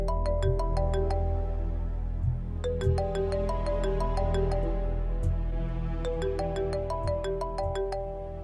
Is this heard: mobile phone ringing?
yes